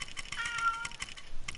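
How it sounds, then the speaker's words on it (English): Pet cat Dusty meows close by in a short rising-and-falling call, set against soft rhythmic clicks of a computer keyboard in a home gaming room. "Sorry, that's just my cat, Dusty."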